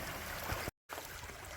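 A creek beside an old Roman road below limestone cliffs runs steadily with a broad, close rush of water, and the sound cuts out briefly partway through.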